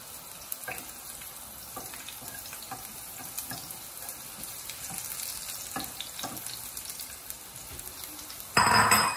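Garlic frying in a pan as it is stirred, a steady broadband sizzle with scattered scraping clicks, followed near the end by a sudden louder burst.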